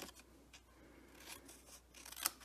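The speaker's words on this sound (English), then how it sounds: "I'm going to go ahead and cut this into a banner." Scissors cut through white card stock to shape a banner for a Stampin' Up! paper craft, giving soft, quiet snipping and rubbing strokes that run steadily, with a sharper snip near the end.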